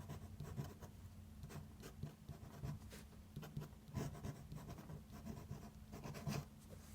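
An equation is handwritten close up, a continuous run of short scratchy pen or chalk strokes with quick taps and pauses, faint and unaccompanied by talk.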